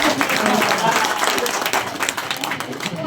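Applause at a village gram sabha welcome ceremony, a dense crowd clapping loudly and continuously, thinning toward the end, with voices mixed in.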